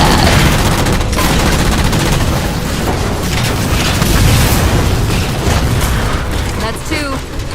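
Loud, continuous gunfire in Halo 4 while jammers are shot down, rapid bursts and booming impacts packed densely together, with a voice speaking over the shooting.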